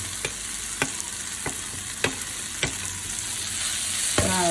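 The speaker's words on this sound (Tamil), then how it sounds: "பூண்டு போட்டு லைட்டாக வதக்கினா போதும்." Crushed garlic sautéing lightly in a pan of oil for a crispy bitter gourd fry, a soft steady sizzle broken by occasional clicks of a spoon, close and quiet with no talking.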